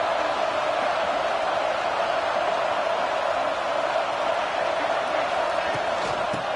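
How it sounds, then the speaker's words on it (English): Football stadium crowd during a college game, producing a loud, continuous broadband roar that holds steady throughout with an announcer talking over it. "The roar of the crowd trying to fuel this defense to keep them pinned in their own end."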